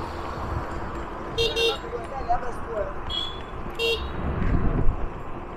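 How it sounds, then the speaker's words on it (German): Car horn honking in Abidjan traffic: two short double toots heard from inside a vehicle, moderately loud over steady road rumble and engine noise, with people talking in the car. "Sag, da ist eine magische Hupe."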